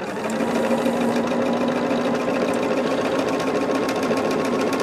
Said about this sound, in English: Getting our third row sewn together.